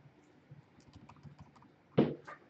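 Computer keyboard key presses: a run of soft, quick taps followed by one louder, sharper keystroke near the end and a final lighter click, close and alone.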